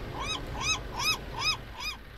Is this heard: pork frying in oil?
no